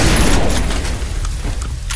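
Explosions in the shooter game F.E.A.R. go off as a loud, dense burst of booms and crackling debris that gradually fades over a couple of seconds.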